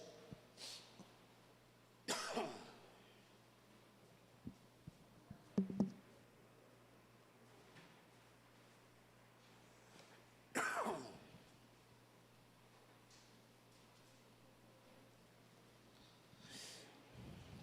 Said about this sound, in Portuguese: Estou tossindo um pouquinho, mas não é gripe não